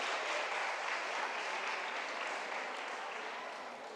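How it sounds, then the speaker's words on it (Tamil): An audience at a Tamil literary festival claps steadily for a few seconds, a dense, even wash of hand claps that fades slightly toward the end, with no voices over it. "நல்லா கைதட்டுங்களேன்"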